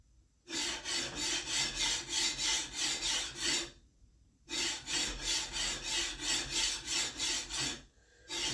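A sharpening plate rasps rhythmically along the bevel of a Greenlee draw knife in two long runs of quick, even strokes, close and steady, separated by a short pause.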